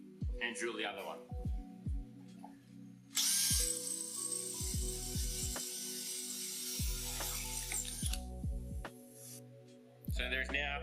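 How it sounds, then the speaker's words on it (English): A power drill with a 7mm bit boring through a ceiling mount tube, high whining bursts that start and stop, one long stretch of grinding in the middle, with a person talking between bursts. "And drill the other one."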